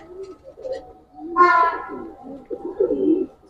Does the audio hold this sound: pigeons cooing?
yes